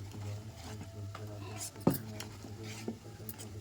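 Batter for pongudalu is stirred in a bowl with green chilli paste, giving soft, steady scraping and mixing sounds with small clinks against the bowl. Faint and close, with no clear talking.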